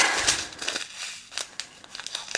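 Close, crisp snips and crinkly paper rustles come in quick irregular bursts, like scissors cutting through sheets.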